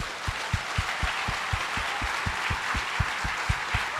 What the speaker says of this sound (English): Can we honor Herbert one more time with a round of applause?